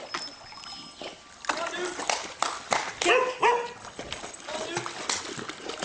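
A Labrador dog outdoors gives a few short barks and yips amid splashing and scuffling, while people talk and call out to it nearby.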